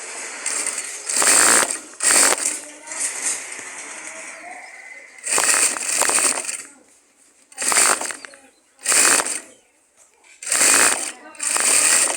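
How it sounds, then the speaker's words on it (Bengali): A sewing machine runs a top stitch while tailoring palazzo trousers, with several loud, close bursts of rapid mechanical stitching, each lasting about half a second to a second, separated by short pauses. "তারপর হচ্ছে উপর দিয়ে একটা চাপ সেলাই দিবেন"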